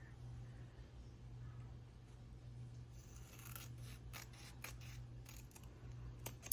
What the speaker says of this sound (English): let me cut this side a little bit more